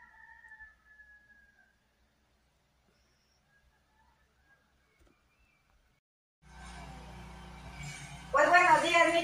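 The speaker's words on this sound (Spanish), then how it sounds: "Les quise compartir el cantar de los gallos" A rooster crows near the end, loud and close, after a long quiet stretch and a rising background of rural noise, with a faint higher call at the start.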